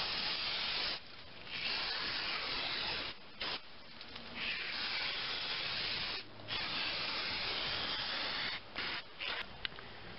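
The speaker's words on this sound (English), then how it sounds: "You give it a good squirt with the part cleaner." Parts cleaner sprayed onto Ford truck emergency brake shoe parts in a long continuous hiss, broken by a few short pauses, close and fairly loud.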